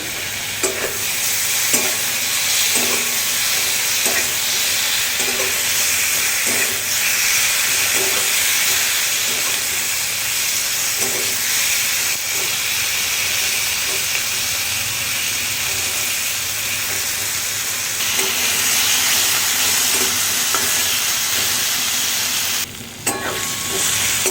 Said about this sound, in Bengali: টমেটো এবং মশলা দুটোই ভাজা হয়ে গেছে